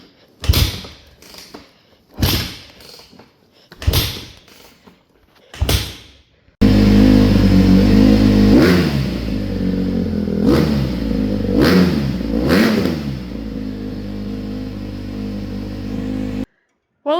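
A Honda CRF150R dirt bike that has sat unused coughs through several short, separate start attempts, then catches and runs loud and close, its engine rising and falling through a few rough blips of revving before cutting off.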